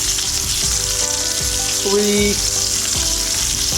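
A thick steak fries on a cooktop with a loud, steady sizzle that runs throughout, while someone talks over it.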